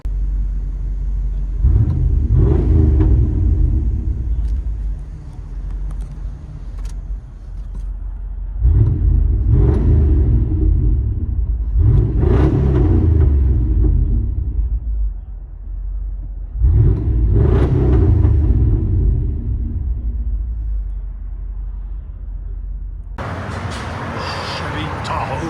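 A 1997 Chevy Tahoe with a 5.7L V8 and true dual exhaust through a Flowmaster Super 10 muffler, lifted: deep, loud rumbling idle broken by four strong revs that swell and fall back, heard from inside.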